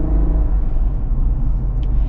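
Engine of a 2024 Ineos Grenadier running while the SUV is driven, a steady loud low rumble with a continuous drone and no pauses.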